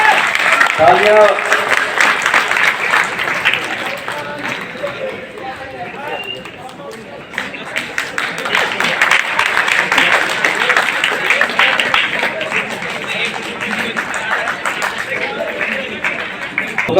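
Sustained applause from a crowd at a teachers' honouring ceremony held by Mentors Eduserv, dense clapping running steadily throughout with some voices mixed in underneath.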